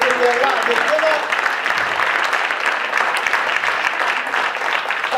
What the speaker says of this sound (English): Try not to clap because you're interrupting me.